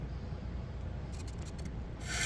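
A Zwilling Kramer Damascus chef's knife is ground across a PDTools silver CBN sharpening stone, giving a steady, close rasping scrape that runs continuously and brightens near the end as the edge works off its burr.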